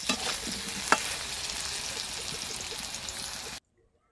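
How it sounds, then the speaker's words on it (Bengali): Half-boiled potatoes fry in a pan, giving a steady close sizzle with a brief stirring clink near the start before the sound cuts to silence. "এই যে আলুটা খুব সুন্দর করে কিন্তু ভেজে নিয়েছি"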